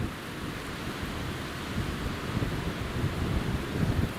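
Gusty wind buffets the microphone at Newcastle International Airport, a continuous low roaring rush that swells and strengthens toward the end, with no talk over it.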